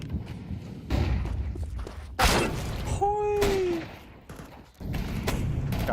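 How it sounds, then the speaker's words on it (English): Flashbang grenade detonates in Counter-Strike 2 amid a firefight: sharp loud bursts of gunfire and a shattering bang followed by a falling ringing tone, with scuffling footsteps close by. "Throwing a flashbang."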